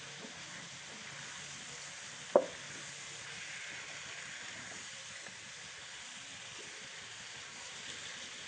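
Potatoes and eggplant frying in a spiced masala in a pan, a quiet steady sizzle throughout with one brief sharp clink near the start.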